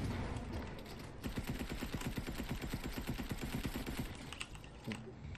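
Rapid pistol fire in a video game, a dense run of sharp repeated shots crackling steadily for several seconds, loud and close, with faint voices in the background.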